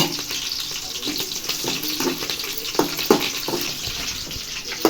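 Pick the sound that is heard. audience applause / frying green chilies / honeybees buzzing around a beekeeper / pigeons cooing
frying green chilies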